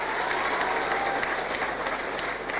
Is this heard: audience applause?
yes